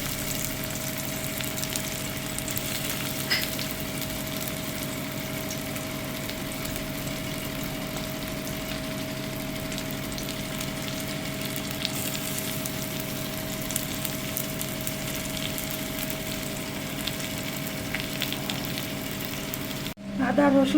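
Onion frying in a pan for Bengali egg tarka, a steady close sizzle with a constant hiss that holds unbroken for about twenty seconds before a brief louder clatter at the very end.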